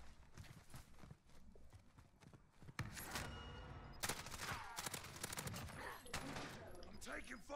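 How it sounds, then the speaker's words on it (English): Rapid bursts of gunfire in a Call of Duty Warzone match with a Grau 5.56 rifle loadout, loud cracks and clustered volleys coming in irregular waves across the whole stretch, with no talk over them. "I'm taking fire."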